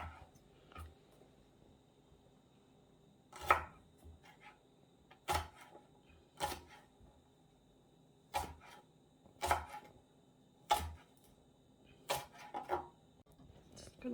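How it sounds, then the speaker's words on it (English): A knife chops spring onion on a board in a quiet home kitchen: scattered single sharp knocks, spaced irregularly about a second apart, close and fairly soft with long pauses between cuts. "cut your spring onion"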